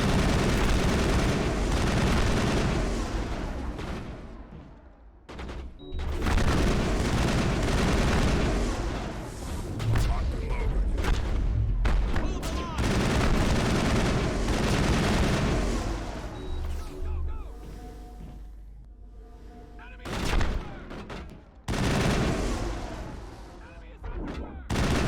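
Sustained gunfire and heavy booms in a Mass Effect firefight, loud and dense for most of the stretch with brief lulls, some voices mixed in under the shooting.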